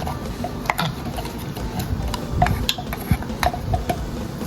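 Papaya salad being mixed with fermented fish sauce and pickled crab, heard as close, irregular clicks, scrapes and knocks of stirring in a bowl, with no talking.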